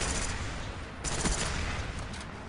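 Video game gunfire crackles as a dense, continuous burst of rapid shots, close and loud, filling the whole stretch without any talk.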